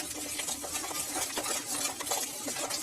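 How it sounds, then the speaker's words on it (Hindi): Dough for sweet Meethi Tikyan being worked together with ghee: a steady, close, soft squelching and rustling that runs without pause, with no voices. "घी के साथ ही हम इसको अच्छे तरीके से मिक्स कर लेंगे।"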